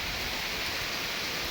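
Heavy rain falls in a constant, even hiss, a dense wash of water with no breaks. It sounds fairly close and steady from start to end, with no talking.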